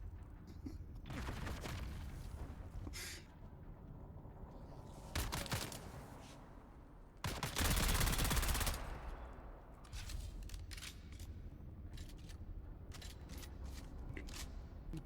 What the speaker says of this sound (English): we're just going submachine gun and wasting so many bullets